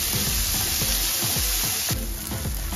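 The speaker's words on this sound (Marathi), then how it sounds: "एक बारीक चिरलेला टोमॅटो त्याच्यामध्ये टाकूया। थोडंसं मिक्स करून घेऊया।" Chopped tomato and onion stir-frying in a pan for a Satara-style black bean curry, giving a steady close sizzle with a few soft scraping stirs and no talk.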